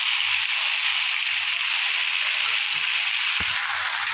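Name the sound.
frying ginger garlic paste with vegetables and fish head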